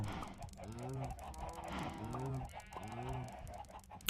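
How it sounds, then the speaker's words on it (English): Chickens cluck in Minecraft, three repeated bock calls spaced at an even rhythm over a steady background hum, moderately loud and near, with no talk. "I could hear eggs popping out of those chickens at such a rapid rate."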